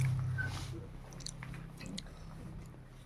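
A person chewing food at home, soft close-up mouth sounds of biting and mastication, quiet and intermittent over a low background hum, with no talking.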